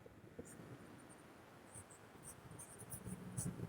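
A pen scratches across paper as a sentence is written by hand, soft close strokes in short bursts over a quiet background.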